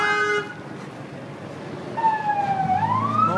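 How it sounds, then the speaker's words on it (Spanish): A police patrol car siren wails nearby during looting and unrest in Mexico, with a short horn-like tone followed by a loud rising and falling siren sweep. "ahí viene la patrulla"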